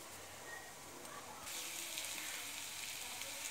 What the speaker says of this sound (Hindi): मेरा बेसन भून चुका है,